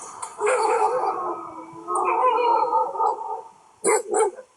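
Several dogs bark and howl together in bursts, a loud layered chorus of yips and howls followed after a short pause by two sharp, close barks.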